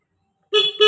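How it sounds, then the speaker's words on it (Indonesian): A Honda Beat injection motorcycle horn sounds loud and close in two short blasts, breaking from silence with a brief dip between them. "Ini klakson hidup."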